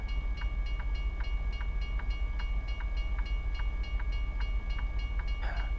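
A two-car passenger train in a video game rolls past with a steady, evenly spaced clicking rhythm over a low rumble and a sustained tonal hum, ending in a brief burst of noise.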